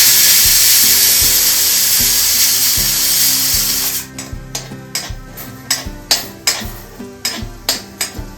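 A mixer grinder powders dry-roasted whole spices including fennel, radhuni, black pepper and whole garam masala, a loud continuous whirring grind for about four seconds, then stopping and restarting in short rhythmic pulse bursts.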